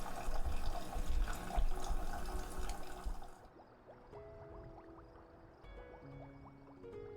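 Water pours and splashes steadily while tea is being made in the background, a continuous running-water wash that thins after a few seconds into a softer trickle with faint drips.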